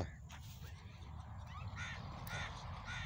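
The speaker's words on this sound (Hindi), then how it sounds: "यहाँ चिड़ियाँ आकर बैठती हैं" Crows cawing at a millet field, several harsh, moderately distant caws repeating over a steady wind-like rumble.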